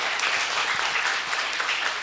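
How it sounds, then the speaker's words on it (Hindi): Dense, steady applause rises from the audience at a madrasa Bait Bazi poetry competition in Aurangabad, honouring a student, a thick wash of many hands clapping with no pauses. "तालियां बजनी चाहिए लेकिन जोरदार"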